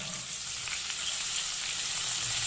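Water hits frying spices for black chana masala, producing a loud, continuous close sizzle with faint stirring scrapes underneath.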